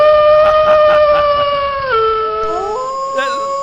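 A dog howls in a long, drawn-out wail with a wavering tone that drops and bends partway through, loud and close, with a brief second rise near the end.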